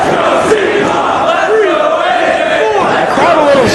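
A Ring of Honor wrestling crowd in the Buffalo area roars and chants steadily throughout, a dense, loud wall of shouting voices at an AJ Styles versus CIMA match.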